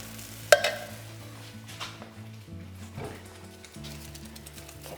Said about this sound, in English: Give that a nice stir.